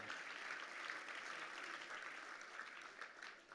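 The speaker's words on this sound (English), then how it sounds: "A real round of applause for David Cowan." Sustained applause from a gala audience at a finance museum, steady and even throughout, filling the room without voices.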